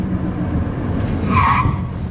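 A short tire chirp under braking rings out over a steady, loud engine drone, a brief squeal lasting about half a second near the end.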